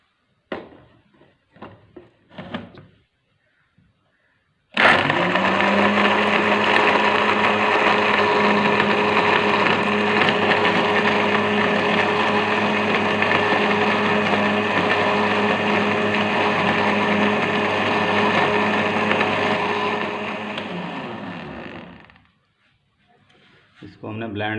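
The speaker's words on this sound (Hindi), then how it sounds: "और इसको ब्लेंड कर लें।" A kitchen blender whirs steadily for about seventeen seconds, blending soaked almonds with two glasses of water for badam sharbat, then winds down; brief voices come before and after the loud, continuous motor run.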